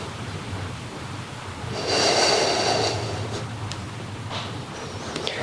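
Steady exhaling breaths from a person holding a hip external rotation stretch, a broad breathy swell in the middle with quieter room tone around it, no talking.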